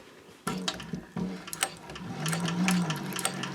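A domestic sewing machine runs basting stitches at a long 5.0 stitch length, its motor whirring in short starts and then a steadier run with a rhythmic mechanical clatter, close and fairly loud.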